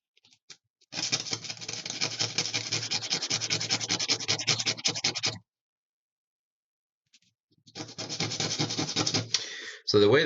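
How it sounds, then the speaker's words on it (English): Sanding a circuit board for a PKE meter top board produces a steady, close abrasive rubbing for several seconds, stops, then resumes in a second stretch of scraping strokes near the end. "Now let me sand this first."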